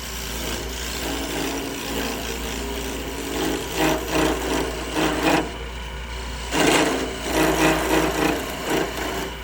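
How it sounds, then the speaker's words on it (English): A skew chisel cuts a dovetail into turned wood spinning on a lathe, making a steady scraping, rasping hiss over the motor's low hum, with two louder bursts of cutting close by. "I'm just going to use a skew chisel just to give it a dovetail"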